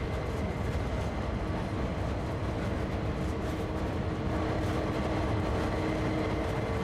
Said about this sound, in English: 84 yards, the train is naturally slowing down.